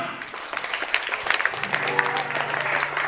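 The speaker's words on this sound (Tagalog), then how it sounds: "Palakpakan po natin Miss Eliza Marie Ramirez Asuncion." Audience clapping at a child's seventh birthday party, a steady wash of applause from a crowd, moderately loud and continuous throughout, with some background voices mixed in.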